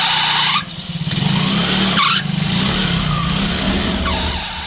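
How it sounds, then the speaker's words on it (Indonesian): A motorcycle engine revs hard and pulls away, with rising surges of acceleration broken by brief pauses, loud and close, and no voices. "Maryanto terlihat girang karena mesin sepeda motornya telah kembali menyala."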